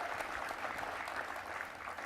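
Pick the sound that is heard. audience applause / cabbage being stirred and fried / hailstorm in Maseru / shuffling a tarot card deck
audience applause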